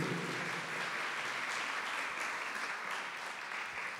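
A church congregation applauds during a Portuguese sermon, a dense, steady wash of clapping that holds evenly throughout without pause.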